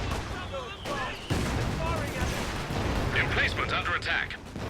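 Infantry support gun firing on a garrisoned emplacement during a 2v2 Company of Heroes 2 match: rapid crackling bursts of gunfire in the second half over a dense, rumbling battle bed, with talk running throughout.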